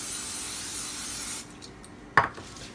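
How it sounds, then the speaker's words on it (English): A steady hiss of non-stick cooking spray onto a pan runs for over a second, stops, then a short clatter of a can or lid follows close by. "I'm just going to spray a little bit onto the pan."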